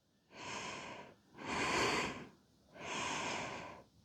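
Three slow, deep breaths in a hatha yoga session, loud and close, each a long broad airy rush separated by short pauses, with no talking.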